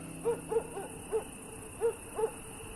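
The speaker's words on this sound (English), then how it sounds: "our barn owl arrives at her destination" Barn owl calling at a church tower, a series of about six short, faint, evenly spaced hoots or wheezy calls over a steady low background hum.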